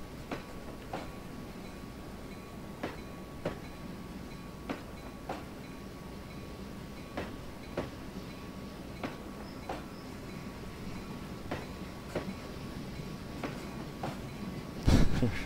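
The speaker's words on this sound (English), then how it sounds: "We're shoving a mile-long train." Locomotives shoving a long freight train in a railroad video game, a steady rolling rumble with regular clickety-clack rail joint beats every second or so, a louder thump at the end, no talking.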